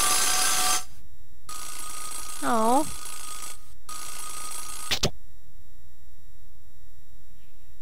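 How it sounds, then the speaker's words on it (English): A fire alarm in the Sega CD game Panic gives bright electronic ringing bursts split by abrupt cuts, plus a wobbling rising tone and a sharp click. A voice briefly exclaims over it. "Is that a fire alarm?"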